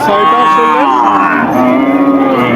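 A cow at a cattle market lets out one long, loud moo close to the microphone, its low drawn-out call filling the whole moment.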